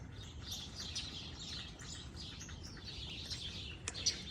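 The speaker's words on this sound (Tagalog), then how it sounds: "Ang daming ibon." Small birds chirp and tweet steadily in the distance in New York, faint and scattered over a soft outdoor hiss.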